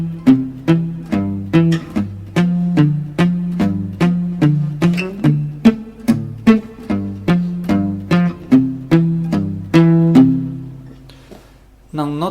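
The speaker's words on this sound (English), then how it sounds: "Next step would be to learn to play boomchick over those shapes." Fingerpicked acoustic guitar plays Freight Train, alternating low bass notes with plucked chords in a steady boom-chick rhythm, close and clear, with no voices.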